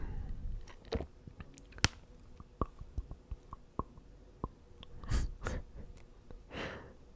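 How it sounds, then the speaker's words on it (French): A person's jaw cracks in a series of sharp, close clicks and pops at irregular intervals, mixed with breathing and a couple of soft exhales, with no talking. "Je suis en train de me craquer la mâchoire"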